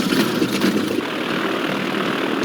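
A propeller plane flies toward a remote Alaskan village in frozen winter, its engine a steady, continuous drone at close range with no voices.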